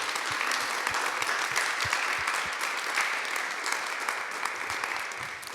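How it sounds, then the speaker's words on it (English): Steady, sustained applause from an audience at a community arts and culture forum, dense clapping filling the room for several seconds and easing slightly toward the end. "let's just give him a huge round of applause"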